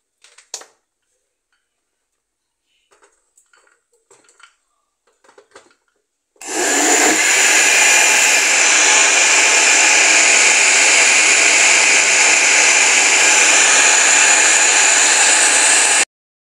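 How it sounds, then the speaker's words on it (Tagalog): An electric blender whirs at full power blending a mango shake with condensed milk and water, starting abruptly after a few quiet clicks and running loud and steady until it cuts off. "Takpan na natin and it's ready to blend."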